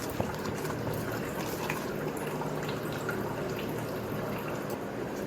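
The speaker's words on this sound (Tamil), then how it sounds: "நான் வந்து தண்ணி மட்டும்தான் ஊற்றிக்கிறேன்" Water is poured into paniyaram batter in a home kitchen, giving a continuous close trickle and liquid splash with faint stirring, steady in level throughout, with no talking.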